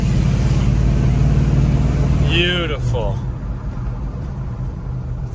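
A 1972 Chevrolet C-10 pickup truck driving and accelerating, its engine a loud, steady low rumble that eases off partway through, with a voice speaking briefly over it.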